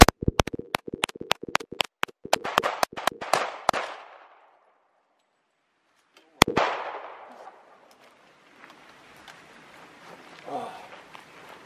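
Gunshots at a shooting range, a rapid string of sharp close reports followed after a pause by one more loud shot with a ringing decay, then quiet movement and faint talk.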